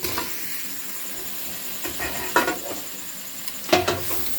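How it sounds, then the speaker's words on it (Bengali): Fried katla fish pieces being stirred into a simmering kalia curry: scattered spoon scrapes and a few sharper clanks against the pan over a soft, steady sizzle. "মাছ ভাজা দিয়ে ভালো করে মিশিয়ে নিচ্ছি"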